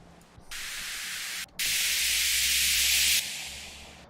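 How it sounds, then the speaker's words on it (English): Two white noise uplifter effects from a music sample pack, each a loud, bright rushing hiss; the first swells in briefly, then after a short gap the second rises, holds and fades out, with no talking. "the last two are white noise uplifters"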